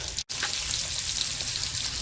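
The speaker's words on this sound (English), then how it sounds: "the butter's just sizzling away" Butter sizzles and crackles steadily in a cast-iron frying pan, a close, bright hiss with tiny pops, broken by a brief dropout near the start.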